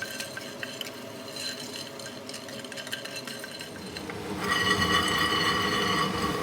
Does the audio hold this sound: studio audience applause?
no